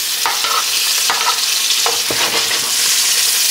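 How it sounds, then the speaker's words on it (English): Pork belly frying and rendering its fat in a pan, a loud, close, dense crackling sizzle with spitting pops and occasional scraping stirs, continuous and without talk. "what we're doing is just rendering this down. We're gonna get some color on it and get some of that fat out of this bacon or pork belly"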